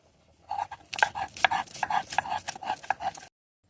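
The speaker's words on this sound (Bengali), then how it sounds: "নিয়ে এবার এগুলো আমি ভালো করে বেটে নেবো।" Ginger, garlic, chili and whole spices such as cloves, cinnamon and cardamom are ground into a paste by hand, heard as a quick, irregular series of close, sharp knocks and scrapes that stop abruptly.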